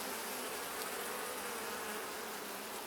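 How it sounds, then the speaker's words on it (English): Bees swarm around an open beehive during a frame inspection, a dense, continuous buzz close to the listener that holds steady throughout, with no voices. "I think I got a bee with my hive tool there."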